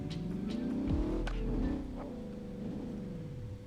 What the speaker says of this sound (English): So here is your tuned Mustang